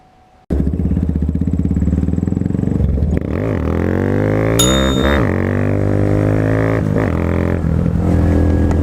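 A motorcycle fitted with a new Westcoast Raceworks clutch plate and springs starts up loudly, then revs and shifts through several rising and falling engine pulls, running steadily close to the listener.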